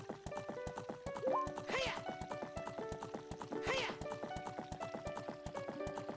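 Epona's hooves from the video game Ocarina of Time beat out a steady, brisk clip-clop, with two brief whinnies rising above the rhythm, while a voice talks over the top.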